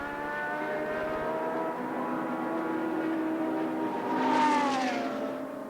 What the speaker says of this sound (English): Back on the track, Piquet raced on towards the beckoning halfway mark